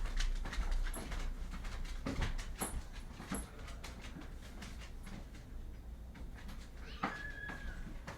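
A pet cat meows indoors, several short cries scattered over steady room noise, fairly close and moderately loud.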